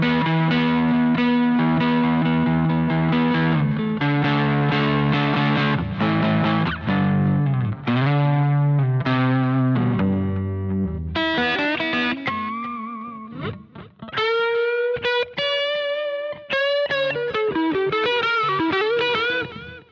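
An electric guitar played direct through a Boss GX-10 multi-effect on its Studio Blues preset rings out in distorted chords and then singing lead lines, loud and continuous with a chorus-and-reverb sheen and no talking.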